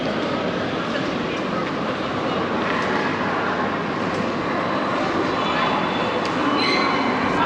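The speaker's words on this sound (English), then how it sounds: "Let's check out the inside of the train station." Inside a train station, a constant reverberant hum of machinery and ambient station noise fills the hall, with faint distant clatter and no clear speech.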